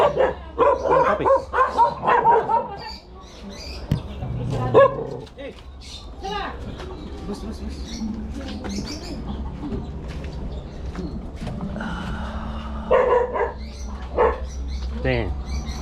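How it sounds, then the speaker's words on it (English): Several dogs bark along a back street in Valenzuela, with repeated sharp woofs coming through over the murmur of people talking nearby, along with a rooster and other birds calling in the background. "Oh, look at all the dogs."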